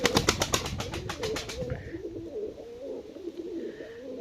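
Pigeons in a cellar coo softly and nearby, the throaty calls running throughout after a quick burst of fluttering wingbeats at the start.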